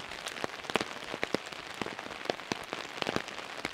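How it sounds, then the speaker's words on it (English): Heavy rain falls on a dispersed campsite in Ouachita National Forest, making a dense, steady patter with distinct drops striking nearby surfaces. It is fairly quiet overall, with no voices. "All this rain, I think it's supposed to get like 2 inches of rain in one day."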